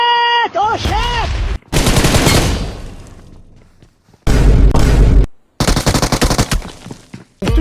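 Video game gunfire in loud, heavy bursts, several rapid volleys separated by short silences, with shouting voices mixed among the shots.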